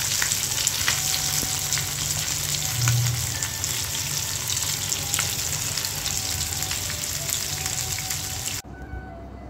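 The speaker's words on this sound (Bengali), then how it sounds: "ইলিশ মাছটা আমার ভাজা হয়ে গিয়েছে। এখন আমি এটা নামিয়ে ফেলবো।" Hilsa fish fries in hot oil with a dense, steady sizzle and crackle near the pan, with faint occasional clinks, before the sound cuts off abruptly at the end.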